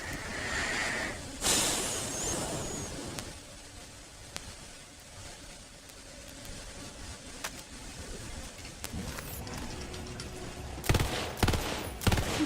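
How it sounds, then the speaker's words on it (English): Gunfire in a video game, a rifle fired in three-round bursts, comes as scattered sharp cracks and short volleys at moderate level over a quiet background, growing denser near the end. "3-round burst. I don't like this."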